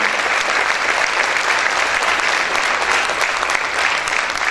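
Loud, sustained applause from a large church congregation, dense and steady throughout.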